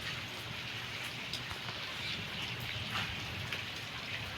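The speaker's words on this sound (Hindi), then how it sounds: "अभी बारिश काफ़ी तेज़ी से हो रही है" Heavy rain pours steadily outside a damaged, collapsing village house, a dense, even hiss with scattered drops and patters that never lets up, with no voices.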